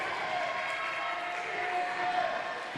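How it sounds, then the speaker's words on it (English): Student section roars at a high school girls' basketball game between the Bulldogs and Wildcats, a steady crowd din of cheering voices filling the gym, with no standout peaks. "student section in getting into the ball game, cheering on their Bulldogs"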